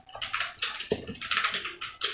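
Quick, irregular bursts of clicking keys on a computer keyboard, close and crisp, with short pauses between flurries of typing.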